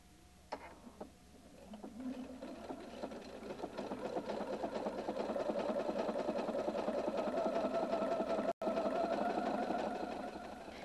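A Husqvarna Viking Designer II sewing machine with the C foot stitches a manual buttonhole, its needle whirring into a fast steady rhythm after a few clicks, close and continuous with one brief dropout.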